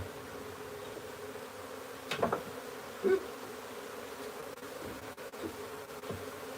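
Honey bees buzzing during a wild beehive transfer, a steady dense hum with a few louder bees passing close to the ear, no talking.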